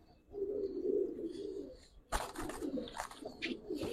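Giribaz pigeons coo in soft, low, drawn-out calls close by, followed by a burst of clattering, rustling handling noise with more scattered coos.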